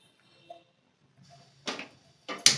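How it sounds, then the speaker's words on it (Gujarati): A kitchen gas stove's igniter gives a few sharp, close clicks in quick bursts, with a faint tick just before them. "ગેસ ચાલુ કરીશું."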